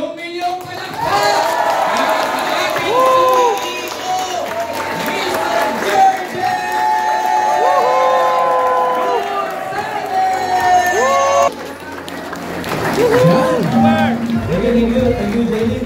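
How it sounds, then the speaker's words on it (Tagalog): A crowd at a Filipino stage program's closing cheers and claps in a loud, sustained swell, with raised voices and whoops carrying through the din for the whole stretch. "Milyong palakpak!"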